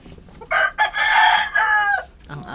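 A hen with newly hatched chicks gives loud, close, drawn-out clucking calls in several bursts, with brief pauses between them.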